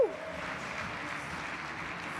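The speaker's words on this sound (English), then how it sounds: "Let's give her a warm round of applause." A keynote conference crowd applauds as a speaker comes on stage, a steady, fairly faint wash of clapping that sounds distant and continuous throughout.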